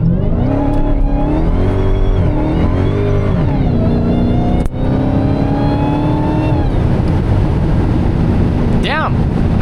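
A Dodge Hellcat drives sideways with its supercharger whining loudly over a rising and falling engine note, steady and close from inside the car, with a sharp click midway.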